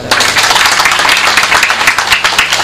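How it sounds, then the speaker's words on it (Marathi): An audience claps steadily and loudly for the children performing at a Marathi kirtan, a dense, continuous burst of applause that lasts about two and a half seconds. "या लेकरासाठी एकदा टाळ्या वाजवा."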